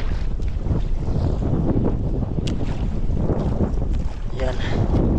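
Strong wind buffets the microphone aboard a sailing outrigger boat out at sea, a steady loud roar with rushing water and brief knocks, continuous throughout.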